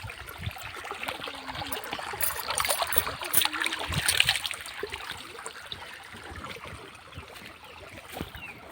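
Water trickles and flows faintly past ivy gourd (dondakaya) plants in a village vegetable plot, a soft uneven gurgle with small splashes and outdoor rustling.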